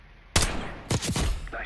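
Sharp, loud gunshots ring out in Call of Duty: Black Ops 6, one crack followed by a quick pair of shots, each trailing off briefly.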